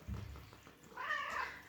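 A cat named Boo meows in two calls: a low, short murmur near the start, then a louder, rising meow after a brief pause, close to the listener.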